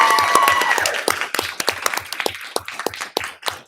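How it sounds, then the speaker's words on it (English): An audience at a school board meeting claps, a burst of close, crisp hand claps that thins out into scattered individual claps over a few seconds. "If members in the audience could hold their applause, that would be helpful"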